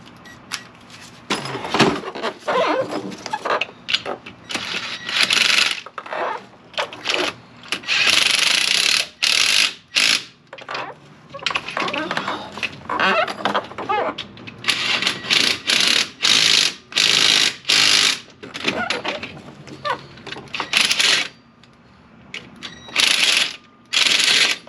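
A car part is driven home with an impact wrench on a 17mm socket, loud rattling bursts of hammering that start and stop repeatedly with short pauses between runs.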